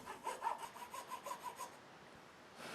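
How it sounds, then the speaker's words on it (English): A file rasps across a guitar nut in a custom guitar build, making short, close back-and-forth strokes in a quick rhythm. The strokes fade out after about two seconds. "I can begin filing down the nut to get the action where I want it to be"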